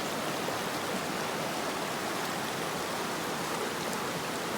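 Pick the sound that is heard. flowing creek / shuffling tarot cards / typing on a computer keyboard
flowing creek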